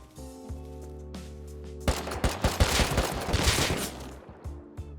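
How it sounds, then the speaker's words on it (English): AK rifle gunfire in the Rust video game, a burst of rapid shots and scattered single cracks over a steady game ambience, starting softer and then growing dense and loud near the middle before trailing off. "I took my rifle to go investigate some AK gunfire"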